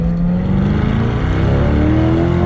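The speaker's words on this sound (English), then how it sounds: "we're going to give it a quick acceleration here in the C8 from second gear" A 2022 Chevrolet Corvette C8 accelerating hard from second gear, its engine note loud and rising steadily in pitch, heard close up from inside the car with no talking.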